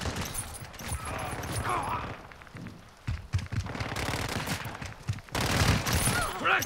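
Rapid video game gunfire bursts crackle through a chaotic firefight, loud and sustained with brief lulls, mixed with shouted callouts and a rain-like hiss.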